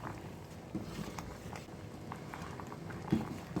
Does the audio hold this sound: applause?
no